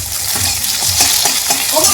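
Spices fry in a pan while being made into Maggi, a loud close sizzle with quick rhythmic stirring scrapes throughout, no voices.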